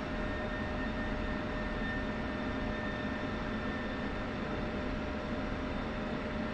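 Steady jet engine roar from a fighter in the DCS flight simulator, taxiing and lining up on runway 28 for takeoff, a constant broadband rumble with faint whining tones holding at even loudness throughout, no voices.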